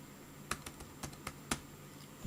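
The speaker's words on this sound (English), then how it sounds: "hit the M key, M as in man, on the keyboard" Several separate keystrokes on a computer keyboard, quiet and close, tapped at an irregular pace against a low steady background hum.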